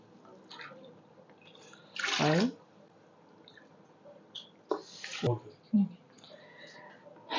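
Cupfuls of water are tipped into a cooking pot for home-style mutton biryani, with several separate splashing pours spaced a few seconds apart while someone talks between them.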